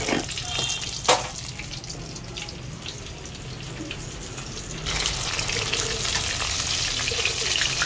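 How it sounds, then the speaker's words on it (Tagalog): Tilapia fries in hot oil with a steady, close crackling sizzle, broken by a sharp pop early on and growing louder and brighter partway through. "Paluto na natin sa oil guys. Fried tilapia."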